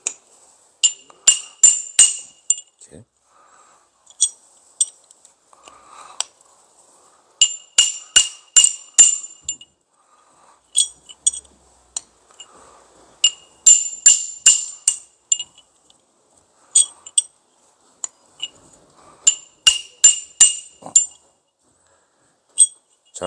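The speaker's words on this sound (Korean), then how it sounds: "막혀 있는 부분이 위로 해서 어, 동망치로 두드리면 빠지게 되어 있습니다" A copper hammer taps a bushing out of an older Golfzon Vision Plus auto tee-up unit, ringing metallic strikes in quick clusters of three to six, separated by short pauses, close and clear.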